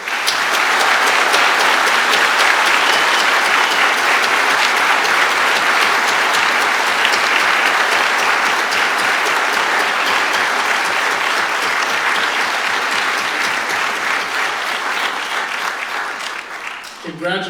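Loud, sustained audience applause at a National Honor Society induction ceremony at Boardman High School for the 2022-2023 class, a dense, even roar of many hands that continues at full strength before tapering slightly near the end.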